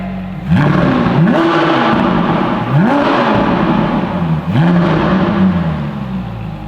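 A car engine with an IPE F1 exhaust and its valves open revs hard in repeated bursts, roaring up and falling back three times with a loud, raspy exhaust, close by.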